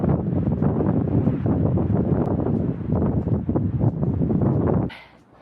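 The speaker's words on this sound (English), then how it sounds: "It's kind of a windy day." Strong gusts buffet a high alpine summit on Quandary Peak in Colorado in October. The wind roars loudly and continuously against the microphone, then cuts out abruptly near the end.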